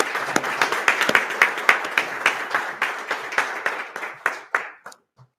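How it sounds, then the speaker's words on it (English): Clapping at a graduation, a modest group giving sparse, distinct hand claps in an uneven rhythm that thin out and die away. "Let's give him a hand clap one more time, guys."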